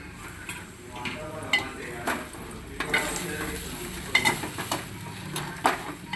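Rice flour upma being stirred and scraped up from the bottom of a pan, a steady run of close scraping and clinking strokes over a soft background hiss.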